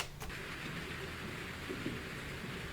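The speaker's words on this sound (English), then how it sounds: "It's rainy." Steady rainfall from a movie scene, a dense even hiss of rain on surfaces that holds constant throughout, fairly loud, with no voices.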